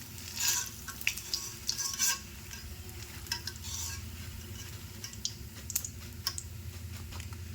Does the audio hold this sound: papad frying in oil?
yes